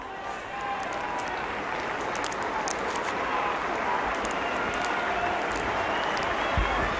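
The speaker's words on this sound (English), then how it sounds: "Good round of applause from the Warrington fans" Warrington rugby league fans give a sustained round of applause in a stadium, a steady wash of clapping and crowd noise filling the whole stretch under a commentator's voice.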